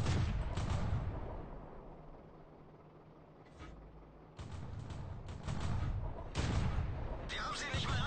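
Tank cannon rounds of regular ammo fired in a tank video game, loud booming blasts with rumbling echoes recurring through the stretch under battle noise and speech.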